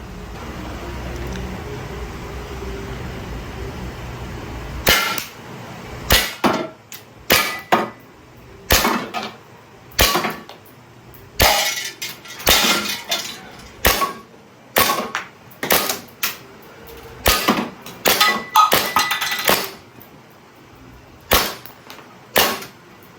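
A DB M92 Pietro Beretta airsoft gas pistol, tan, fires at a tin can, about twenty sharp, loud, close shots in an uneven rhythm after a few seconds of quiet handling noise, with no talking.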